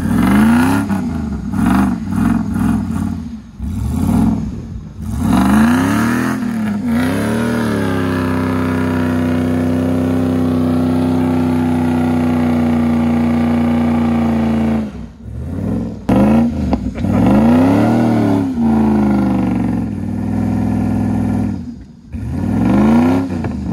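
A car engine revs hard again and again while it tries to pull a stuck Cadillac with a Dodge trunk. Loud rising and falling surges lead into a long sustained high rev, then more repeated bursts.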